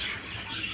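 Pet parrots squawk and chirp briefly in an aviary, a short burst of bird calls at moderate level with no talking.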